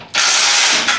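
A ratchet wrench snugs a bolt on a Dodge Charger's rear bumper bracket during a restoration, giving one loud, sustained burst of clicking pawl lasting nearly a second, close to the microphone.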